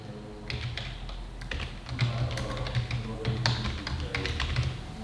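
Typing on a computer keyboard while filling in a real estate buy-sell agreement form, a steady run of light taps and clicks with a low hum underneath and no talking.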